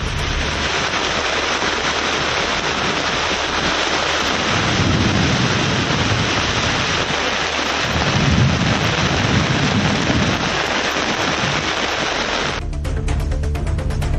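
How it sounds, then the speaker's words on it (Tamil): Heavy rain pours down in Madurai during a thunderstorm, a dense, constant hiss of downpour with low thunder rumbles swelling twice beneath it, before a brief change in texture near the end. "இடி மின்னலுடன் மழை கொட்டி தீர்த்ததால்"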